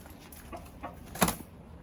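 Rooster farm coop with chickens and roosters giving brief scattered clucks and soft rustling, building to one louder sharp call, heard at a moderate distance against steady background noise.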